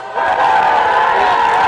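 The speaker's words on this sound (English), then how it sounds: "You can just hear the crowd right now booing all of the umpires." A crowd at a CIF-SS high school baseball game, Crescenta Valley at Arcadia, boos the umpires after a disputed call at third base. The sound is a loud, steady roar that stays level and continuous from start to finish.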